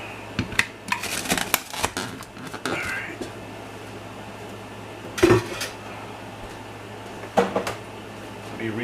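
Freeze dryer trays of nacho cheese get covered with a lid, heard as a cluster of close metallic clatters and clicks, then a louder clank and a few later knocks, with faint murmuring in the background.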